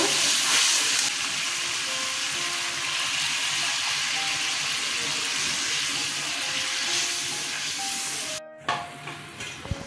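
Water poured into hot oil and cooked spice paste for a chhana kofta curry hisses and sizzles steadily for several seconds, then settles into faint bubbling with a few clatters near the end.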